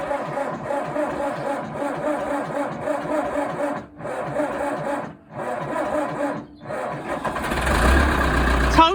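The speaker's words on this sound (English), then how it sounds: "Tractor is now started." A Massey Ferguson diesel tractor engine cranks in three rhythmic bursts separated by short pauses, then fires and roars into a loud, rough idle close by.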